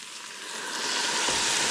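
Sherry hitting a hot pan of onions and potatoes, a bright, close sizzle that swells steadily louder over a short stretch.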